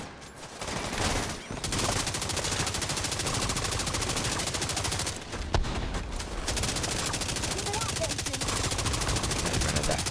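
Sustained rapid gunfire in a shooter video game, loud and dense bursts of automatic fire running almost continuously, with short pauses and a voice talking underneath.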